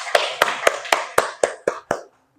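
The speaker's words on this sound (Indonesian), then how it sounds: "Kasih tepuk tangan buat kelompok 2 dulu." About eight distinct hand claps in a slow, even rhythm ring out in a classroom, close and clear, before stopping abruptly; no talking over them.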